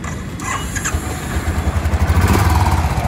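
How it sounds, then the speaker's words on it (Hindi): Royal Enfield Bullet 350 ES motorcycle with a long-stroke engine, exhaust running with a steady low thumping idle that grows slightly louder and more pulsing toward the end, close by with no talk. "ये साउंड आएगा इसका एग्जॉस्ट"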